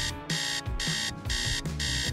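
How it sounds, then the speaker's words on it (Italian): An alarm clock rings in four loud, evenly spaced bursts of bright, rapid ringing, separated by short gaps. "Di nuovo la sveglia."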